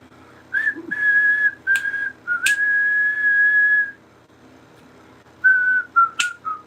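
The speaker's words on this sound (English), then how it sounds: "So you can whistle too, Dad." A person whistles a tune close up, several clear sustained notes with short breaks and a longer pause before a final quick phrase, heard alone.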